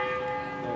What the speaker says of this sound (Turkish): tam da bu sırada çan çaldı